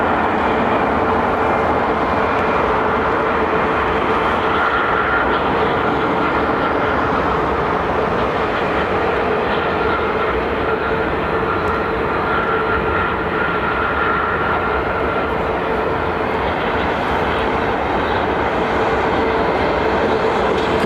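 A Lufthansa airliner with Rolls-Royce jet engines roars continuously at Heathrow Airport, a loud broadband rumble that holds for about twenty seconds with no voices over it.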